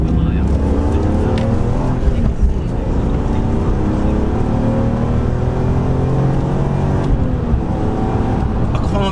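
A high-mileage BMW M3 drives along a road with steady engine drone and road noise throughout, the pitch rising and falling through gear changes, while someone talks over it inside the cabin.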